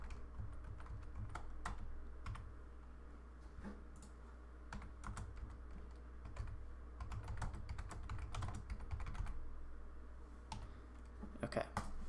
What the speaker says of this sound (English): All right, Peter, I'm typing to you.